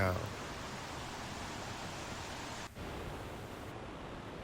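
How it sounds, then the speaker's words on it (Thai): Chaloem Phra Kiat Rama IX waterfall near Betong roars as a steady, broadband rush of falling water, continuous and fairly even throughout with a brief dip midway. "น้ำตกเฉลิมพระเกียรติร9เ"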